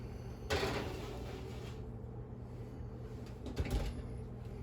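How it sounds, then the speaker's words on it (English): An oven broiler door closes on a meatball parmesan sub garnished with parsley flakes. It gives a soft thump near the start and another near the end over a steady background hum. "we're going to stick this under the broiler for about 2 or 3 minutes."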